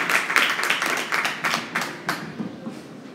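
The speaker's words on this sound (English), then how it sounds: "I'd like for us to give her an applause as we welcome Miss Linda." Audience applause welcoming a speaker at a legislature education committee event, a moderate burst of hand clapping that is dense at first and thins out over a few seconds, with no talking.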